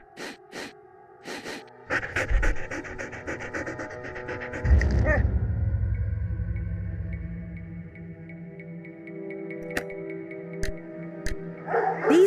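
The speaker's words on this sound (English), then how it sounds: "These dogs have been trained to act vicious on command." Dogs trained to act vicious on command bark, yip and pant in a rough cluster, fairly close, over a sustained low tonal hum that lingers after the barking eases.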